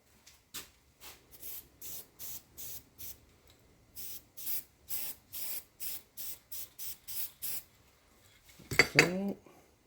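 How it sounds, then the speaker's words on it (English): Repeated short hissing bursts of copper gasket aerosol spray on a turbo part, about twenty in a steady rhythm, close and fairly quiet, ending with a metallic clatter. "I'm just going to put a little copper spray on it"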